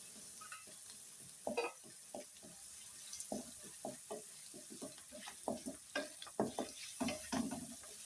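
Onion pieces frying and being stirred in a pan until golden brown, a steady soft sizzle broken by repeated scraping and stirring clatter, close and moderately quiet with no talking.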